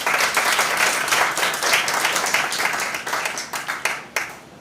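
An audience at a high school debating competition applauds for a Bar Association committee vice chairman, steady dense clapping that thins into scattered claps toward the end, with no voices.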